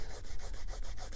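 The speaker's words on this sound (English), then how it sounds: "actually slicking that edge and burnishing that" A scrap of canvas is rubbed fast back and forth along a leather edge to burnish it, making a rhythmic, close, scratchy swish with about eight quick strokes.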